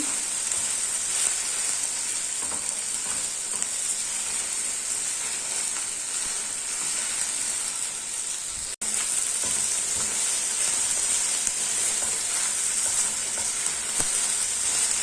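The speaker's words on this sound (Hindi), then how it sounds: "بھنڈیوں کو فرائی کرتے ہوئے 2 سے 3 منٹ ہو گئے ہیں" Okra fries in a pan with a loud, steady sizzling hiss that runs continuously and close, broken only by a brief cut partway through, with no talking.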